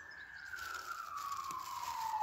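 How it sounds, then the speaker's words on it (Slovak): Distant emergency siren in a quiet outdoor setting, a single wailing tone sliding steadily downward, faint and far off with light background hiss and no talk. "Ale majaky počuť."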